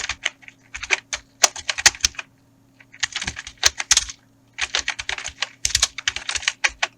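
Close, crisp keystrokes on a computer keyboard come in quick bursts of clicks, with a short pause between runs of typing and no talking.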